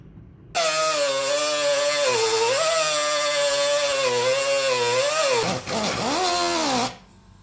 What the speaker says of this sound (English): I'm going to cut through both the metals, and so I'll have a neat line to weld